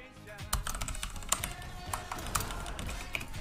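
Quick typing on a computer keyboard, with irregular clicks and taps at close range over a steady game background and faint speech.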